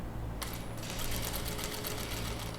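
A sewing machine stitches soft knit fabric scraps into a baby comfort blanket, giving a rapid, steady mechanical whirr that stays close and even throughout, with no talk.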